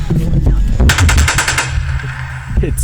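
A Nerf toy blaster fires a rapid burst of about a dozen sharp mechanical clacks in quick succession, sounding over a low throbbing background hum.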